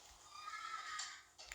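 Horse whinnying in the video game 99 Nights in the Forest, one drawn-out, fairly faint neigh with no voices over it.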